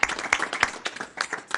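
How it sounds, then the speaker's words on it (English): People at a city council meeting clap for fundraisers who grew facial hair for the month, a short burst of distinct, uneven claps from a small group, fairly close. "So I'm sure that we can give them a round of applause"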